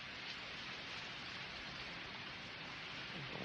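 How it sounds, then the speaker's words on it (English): Heavy rain pours down hard outdoors, a dense, steady hiss of water hitting surfaces at even intensity throughout, with no voices. "Pouring down raining out there. Like hard, holy."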